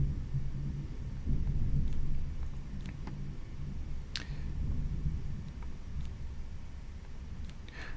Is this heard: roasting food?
no